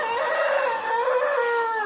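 A Peruvidai rooster crows loudly and close by, one long drawn-out call that rises and holds before trailing off, with no other sounds around it.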